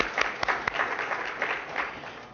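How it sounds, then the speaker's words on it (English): Audience applause at a festival announcement event, a scattered patter of clapping with a few sharp individual claps early on, moderately distant and fairly soft throughout. "You can clap"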